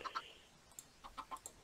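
A Minecraft video game chicken clucks in several short, faint bursts, a couple of quick clucks followed by scattered single calls, with no voices.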